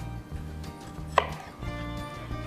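A kitchen knife chops cherry tomatoes on a board while pancake batter is being prepared, giving one sharp, close cutting tap over a steady low background hum.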